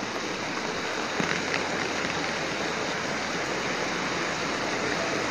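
Heavy rain pours down steadily in a dense, unbroken hiss that stays loud and even throughout, with no voices over it.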